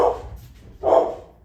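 A dog barks twice indoors, two fairly close, loud barks spaced under a second apart with a quiet pause between.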